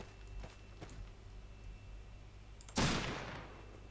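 In the western shooter game Fistful of Frags, during a battle royale match, a single loud gunshot cracks out sharply after a few faint, distant pops over a quiet low hum.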